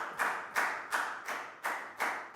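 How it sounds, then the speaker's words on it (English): A class of Year 4 pupils claps for a classmate in a maths lesson, six broad, evenly spaced bursts like a few hands clapping together in rhythm, moderately quiet with no talking. "Big round of applause for Dan, guys."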